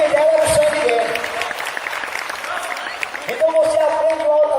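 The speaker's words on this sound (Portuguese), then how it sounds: "Então aplauda essa verdade." A church congregation breaks into a sustained round of applause, steady and fairly loud, with a voice speaking over it at the start and again as the clapping fades.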